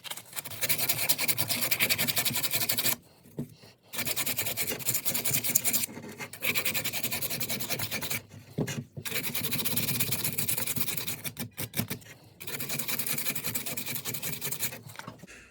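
Scale being scraped off a Honda ATC70 engine part during top-end work: loud, continuous rasping scrapes in long strokes, broken by a few brief pauses.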